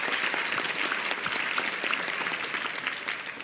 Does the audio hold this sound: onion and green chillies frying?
no